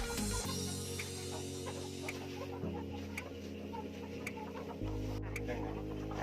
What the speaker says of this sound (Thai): ไก่ก็มาอยู่ในเล้าแล้ว